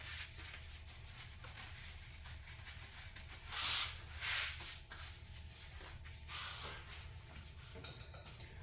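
Hands rubbed together with rubbing alcohol during a bicycle build, a soft, quiet friction that comes in a few gentle swells, with no talking.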